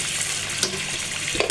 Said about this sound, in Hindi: जैसे हमारे प्याज फ्राई हो जाएंगे